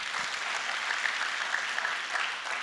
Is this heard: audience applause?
yes